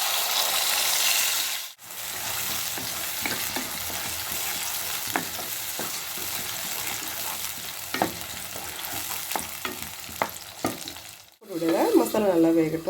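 Egg pepper masala frying in oil in a kadai with bay leaf, green chilli and ground spice paste, a steady close sizzle broken by scraping stirs and clinks of a spoon, with a brief pause and a louder crackle near the end.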